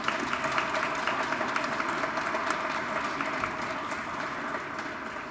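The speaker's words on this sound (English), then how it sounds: "So let's give them a huge round of applause." Applause at a fellowship awards event, a steady crowd of hands clapping continuously, moderately loud and even throughout, with no talking over it.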